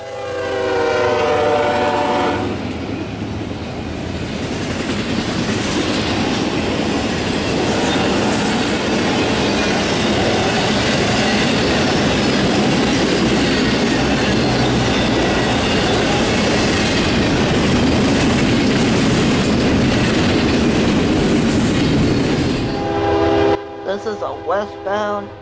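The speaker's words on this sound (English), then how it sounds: "Next westbound is an intermodal that was flying quick through Chesterton with BNSF power twirling second and third after the NSF." A fast westbound intermodal freight train with BNSF locomotives thunders past at Chesterton, Indiana, sounding its horn in repeated blasts at first, then a long continuous rumble of wheels and clattering cars close by until it abruptly fades.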